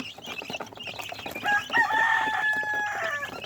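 Shamo and Parawakan chickens and chicks calling: a rooster crows in a drawn-out, wavering call across the middle, over continuous nearby clucking and peeping from the flock.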